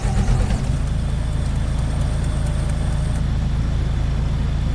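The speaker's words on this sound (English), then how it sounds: "Honestly, I really enjoy the sound of this bus." A bus engine idling in the driving game The Bus, heard right after the key is turned: a loud, steady diesel rumble with a faint clunk at the start, continuous and even throughout, with no talk.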